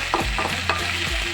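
Tomato and pizza sauce fries in a pan for cheese pasta, a close, steady sizzle broken by a few scraping stirs of a spoon.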